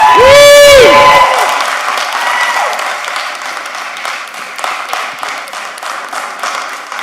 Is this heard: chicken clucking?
no